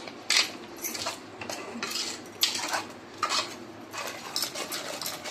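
A metal spoon stirs sweet bottle gourd cake batter in a bowl, giving repeated close scraping and clinking strokes in an uneven rhythm, with no talking.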